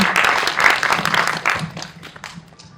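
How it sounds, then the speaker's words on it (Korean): Audience applause at a post-screening film talk, lively clapping close by that gradually thins and fades toward the end, with faint voices underneath. "네, 큰 박수 부탁드리겠습니다."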